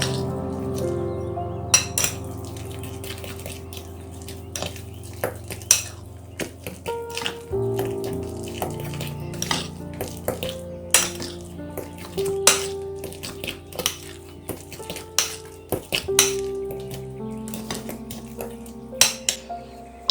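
Ingredients for a potato, egg, cheese and meat pie being mixed in a bowl, with repeated clinks and taps of a utensil against the bowl over soft background music.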